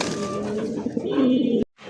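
A high-quality fancy pigeon gives a soft, low, rolling coo up close, one sustained murmuring call lasting about a second and a half before cutting off abruptly, with no voices.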